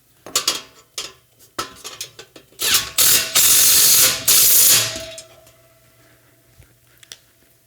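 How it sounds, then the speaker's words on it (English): A ratchet driver clicks as it tightens a bolt on a chassis during assembly, with bursts of rapid, loud ratcheting near the mic, then a few faint clicks as it settles. "if I keep running the ratchet, it'll keep, or the driver, it'll keep getting tighter"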